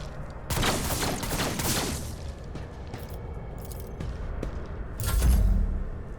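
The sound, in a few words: gunfire in Warhammer 40k Rogue Trader video game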